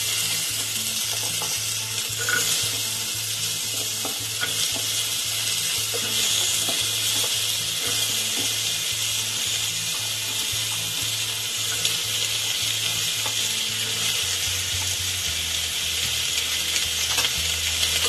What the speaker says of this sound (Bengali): সব সবজিগুলো একটু নাড়াচাড়া করে নেব।